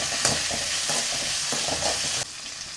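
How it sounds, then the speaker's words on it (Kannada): Dried red chillies and a handful of curry leaves crackle and sizzle in hot oil, a steady close frying hiss with a few sharp pops and stirring scrapes, dropping slightly quieter near the end. "ಕೈ ತುಂಬ ಕರಿಬೇವು. ಎಣ್ಣೆಯಲ್ಲಿ ಸ್ವಲ್ಪ ಫ್ರೈ ಮಾಡೋಣ ನೋಡಿ."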